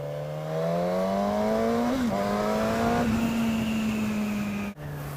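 A Suzuki GSX-S1000 super naked motorcycle engine pulls hard under acceleration on a test ride, its loud steady drone rising in pitch as revs climb, with a brief gear change and a short dip near the end.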